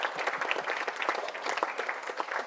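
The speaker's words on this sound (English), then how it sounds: "Yeah, round of applause." Wedding guests clapping in a warm, steady round of applause during the reception speeches, many hands at moderate distance sustained throughout.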